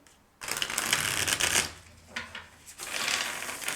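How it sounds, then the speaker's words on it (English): A deck of cards is shuffled up close in a dense, papery riffling burst that pauses briefly and then riffles again. "I will shuffle first."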